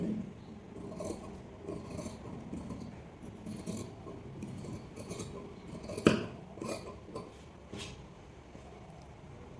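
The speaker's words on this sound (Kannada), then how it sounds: "ಇವಾಗ ಇಲ್ಲಿ ಫ್ರಂಟ್ ಶೇಪ್ ಕಟ್ ಮಾಡ್ಕೊರಿ" Scissors snipping through blouse fabric laid flat, cutting the front shape of a four-dart blouse; soft, low rasping cuts repeat steadily with one sharper snip partway through, close and fairly quiet.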